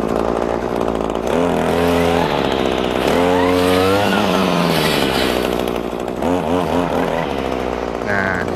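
Grass cutter engine in Japan, started and revved repeatedly, its whining two-stroke pitch rising and falling in several loud bursts up close.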